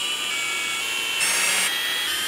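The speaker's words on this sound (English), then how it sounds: "So let's start screwing these in." A drill driving screws into a bamboo fishing pole, a steady high whirring that swells louder for a short stretch midway, close and without talk.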